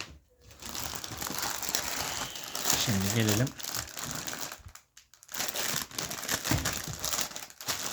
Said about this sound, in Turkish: Poşeti açmaya. Bu sefer makassız bıçaksız açacağım.